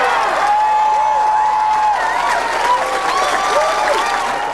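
A large, fired-up campaign crowd claps and cheers steadily throughout, dense applause with scattered whoops and voices, close and loud with no break.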